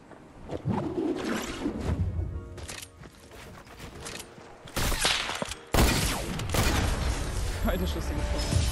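Gunshots in the Fortnite video game pop out as a few sharp, loud bursts amid game sounds, with players talking throughout.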